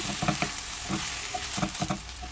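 Shawarma meat and onions frying in a pan with a dense, close crackling sizzle broken by repeated scraping thumps as the food is tossed and stirred; no voices.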